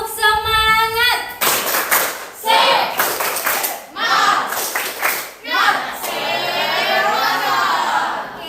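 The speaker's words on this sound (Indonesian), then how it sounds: "Oke semuanya ya, tepuk semangat." Indonesian schoolchildren in a classroom perform a rhythmic spirit clap, bursts of patterned unison claps with shouted chants between them, ending in a sustained group cheer.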